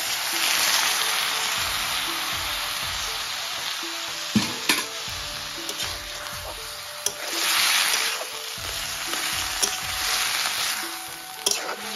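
Samosa filling fries in a pan with a loud, hissing sizzle that swells in waves, as after water is added. Occasional sharp clicks and taps of a utensil break through, close up and with no talking.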